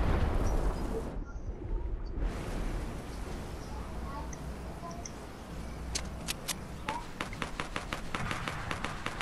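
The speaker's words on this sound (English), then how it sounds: "Incoming rocket launcher." A rocket launcher fires in the video game Fortnite: one heavy booming blast at the start cuts off sharply, then a rumbling roar lingers, followed by a string of sharp clicks and gunshot-like snaps.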